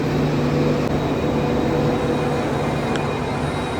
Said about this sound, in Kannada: ಅವ್ರಿಗೆ ಬಾಯ್ ಮಾಡೋ ಟ್ರೈನ್ ಬಂದ್ಬಿಟ್ಟಿದೆ.